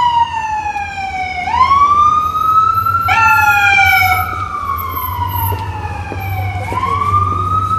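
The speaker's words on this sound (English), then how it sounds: "the constant siren, the sounds of sirens" Loud emergency sirens wail up and down in repeated sweeps on a Manhattan evening street near Times Square in New York City, with a low engine rumble underneath.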